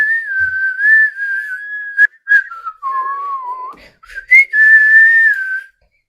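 Someone whistles a wavering tune in an episode of classic Doctor Who, a clear, loud, close melodic line that breaks into a few short phrases with brief pauses, heard alone without talk.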